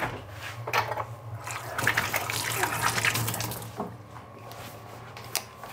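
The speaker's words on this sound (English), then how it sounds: "Little power rinse." Water runs from a kitchen tap for a quick power rinse of a pot after ribs go in for a cottage pie, a close, rushing splash that swells and fades, with faint clatter around it.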